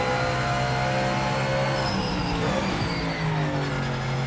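A race car engine in the video game Project Motor Racing drones loudly and continuously with layered engine harmonics, shifting pitch through a corner, with a brief tire screech in the middle.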